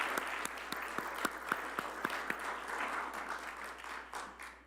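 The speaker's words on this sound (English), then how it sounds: "let us give a round of applause for our beautiful speakers this day" A church congregation in a sanctuary applauds two speakers, Judith and Constance, with a moderate, steady spread of clapping. A few sharp, distinct claps stand out early before the sound thickens and slowly tapers off.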